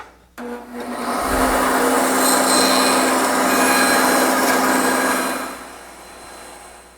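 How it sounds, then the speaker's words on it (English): A bandsaw cuts the shaped top of a wooden serving tray along a marked rounded line, making a steady, loud, whining drone that runs for about five seconds and then winds down, with no talking. "So to do that, I would just bandsaw that out."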